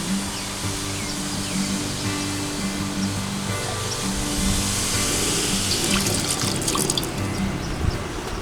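Vinegar pours steadily into a pot for several seconds, a continuous splashing stream with a low background hum and no talking.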